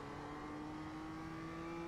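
BMW M2 engine in iRacing at Charlotte Roval, pulling hard under steady acceleration with a sustained droning tone that rises slightly, heard alone and fairly quiet.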